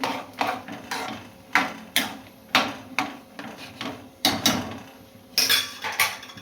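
A lid set down on a cooking pot of simmering field-bean stew in a home kitchen gives a series of sharp metallic clanks and rattles, spaced irregularly, close and moderately loud.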